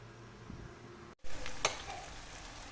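Stuffed potatoes with Edam cheese frying in a pan on the stovetop, a steady close sizzle after a brief cut, with one sharp clink partway through.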